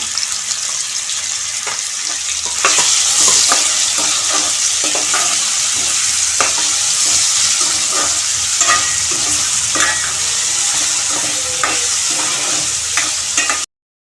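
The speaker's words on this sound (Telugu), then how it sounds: "నూనె వేడైపోయింది నూనె వేడికి పిండి దొండకాయలు వేసుకుందాం" Ivy gourds coated in batter fry in hot oil with a constant bright sizzle and crackle, punctuated by occasional scraping and stirring clicks, close and loud throughout.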